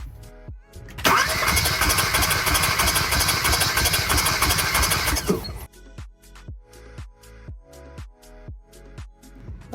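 A Hyundai Veloster turbo engine cranks over during a compression test: a loud, steady roar fills the first few seconds, then gives way to a close, rhythmic chug of evenly spaced cranking strokes.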